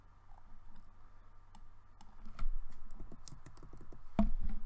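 Typing a zip code on the number keys of a computer keyboard with a microphone resting on top, a run of close, sharp clicks and taps that quicken midway, ending in one louder thump.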